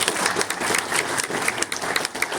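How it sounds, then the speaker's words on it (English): Audience applause at a Six Flags Great Escape and Six Flags New England presentation, a dense, steady patter of many hands clapping close by, sustained throughout without speech. "Big round of applause for Mike"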